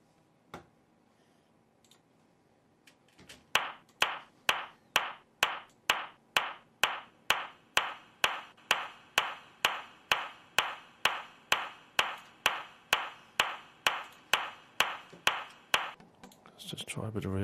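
Synth clap sample repeating in a steady, evenly spaced pattern with a short reverb tail on each hit, about two dozen bright claps in a row after a brief quiet start, with some other sound swelling in at the end.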